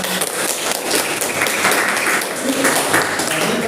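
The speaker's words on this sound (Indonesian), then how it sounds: "tepuk tangan" A classroom of students claps together during a lesson, a steady, fairly loud patter of hands lasting a few seconds in a room, with no distinct talk over it.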